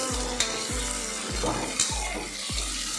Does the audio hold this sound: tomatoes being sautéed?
yes